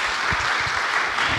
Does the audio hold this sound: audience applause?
yes